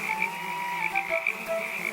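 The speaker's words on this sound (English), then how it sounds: "Because of frogs crying and mosquitoes, I cannot fall asleep." Frogs croak in a valley at night: a dense, continuous chorus of trilling calls, fairly loud and close, with no voices.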